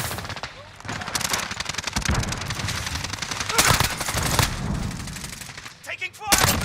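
Gunfire rattles through a Call of Duty Warzone Resurgence trios match in Verdansk: loud, close automatic bursts and single sharp shots arrive in irregular clusters, with brief gaps and faint voices in between.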